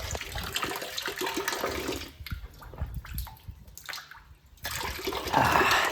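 Water gushes steadily from a pipe into a tank, drawn without electricity by a makeshift setup; a continuous splashing rush that eases briefly in the middle before surging back full.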